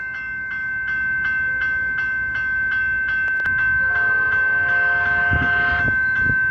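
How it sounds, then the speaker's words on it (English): A fast train passes an Australian level crossing, its steady rolling rumble sustained throughout with the crossing bell ringing rhythmically and a loud horn blast sounding near the end, no voices. "The train ahoy! What train is that?"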